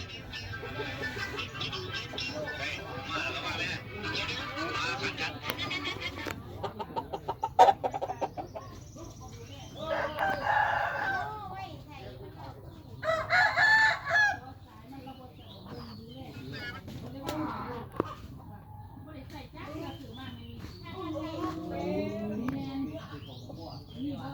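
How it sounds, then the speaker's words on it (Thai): A rooster descended from a prized Thai bird bought in Chonburi clucks and calls in short bursts at close range, while people talk intermittently around it. "ไก่บ้านพี่เขาซื้อมาจากชลบุรีนะครับ"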